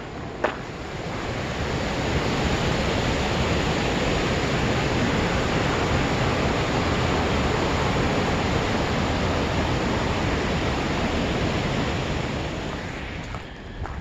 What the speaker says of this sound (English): you're probably not going to hear me because of this water